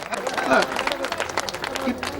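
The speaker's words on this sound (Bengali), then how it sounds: "সবাই একটু হাততালি দেন" A crowd at a Bangladeshi high school picnic breaks into scattered clapping, a brief busy patter of many hands with voices talking over it.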